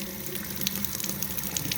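Tap water runs steadily into a sink to cool a snowmobile thermostat under test, a Ski-Doo 850 E-TEC part, giving a constant close rushing gush with no voices.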